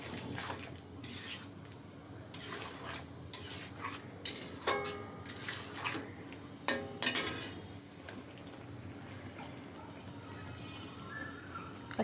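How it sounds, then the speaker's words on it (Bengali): Mustard paste being stirred into vegetable stalks in a pan, heard as scattered clinks and scrapes of a utensil against the pan with light wet mixing sounds in between, close and fairly quiet, with no talk. "ভালো করে সর্ষে বাটা ডাঁটার সঙ্গে মিশিয়ে দিব।"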